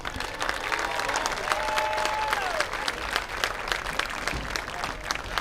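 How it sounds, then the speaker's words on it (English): A crowd gives sustained, thick applause for Hall of Fame inductees at a high school football event, East Henderson versus Franklin, with many hands clapping continuously over a murmuring background. "Let's please give these inductees one more round of applause."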